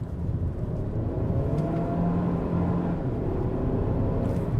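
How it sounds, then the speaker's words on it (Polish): A JAC JS6 SUV with a Chinese 1.5-litre, 174-horsepower engine runs at a steady pace, giving an even, smooth drone with a low rumble and a faint whir, heard alone with no voices. "Motor."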